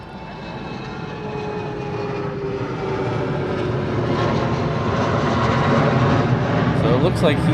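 A fixed-wing aircraft taxiing at Honolulu airport makes a loud, steady engine roar that slowly builds in strength, heard from outside with some talk over it.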